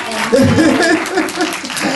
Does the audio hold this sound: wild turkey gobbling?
no